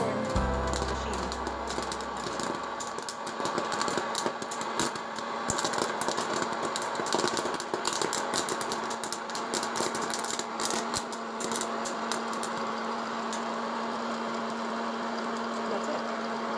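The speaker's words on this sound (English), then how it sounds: "The little popcorn machine." A small popcorn maker machine runs with a steady mechanical whirr and hum, overlaid with dense crackly rattling of kernels, loud and close throughout without a break.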